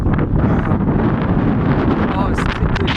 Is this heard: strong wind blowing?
yes